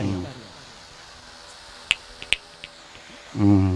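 Two sharp finger snaps, about half a second apart, with a couple of softer clicks after them, heard during a hearing test at a live religious healing gathering in Marapulu Varipalem. A voice speaks before and after the snaps.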